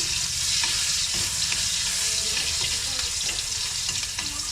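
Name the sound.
ginger sizzling as it is sautéed in oil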